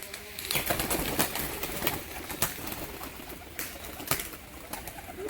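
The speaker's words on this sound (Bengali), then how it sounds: "পায়রার বাজিগুলো আপনারা দেখলেন" Tumbler pigeons kept for flying displays, cooing softly nearby amid a busy bed of outdoor noise and sharp intermittent clicks or flaps, with no voices.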